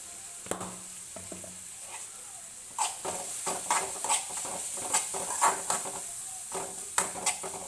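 Curry sizzling in a pan just after turmeric powder goes in, with a steady hiss and a run of scraping stirs and clinks against the vessel, close and fairly loud.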